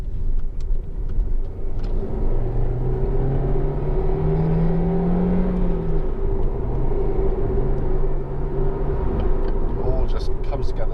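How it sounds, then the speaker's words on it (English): A 2011 Honda Civic 1.4 i-VTEC Ti five-door's engine rises in a steady rev, a continuous interior drone and rumble heard from inside the car while someone talks over it. "But Hondas do make a lovely noise when they rev out."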